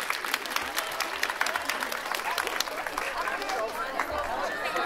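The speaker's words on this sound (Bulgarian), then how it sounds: "Поздравления, аплодисменти за децата." Sustained applause from a crowd at a village festival in Slashten, Bulgaria, honoring children after their performance, dense steady clapping filling the whole stretch with faint crowd noise underneath.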